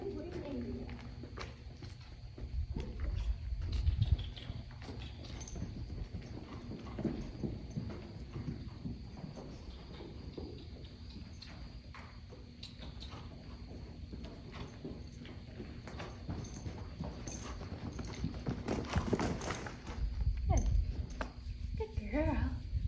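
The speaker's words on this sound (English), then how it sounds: "then I'll do the walking and trotting now" A mare's hooves clop steadily as she is walked and then trotted, the hoofbeats fairly close and continuous, with people talking now and then over them.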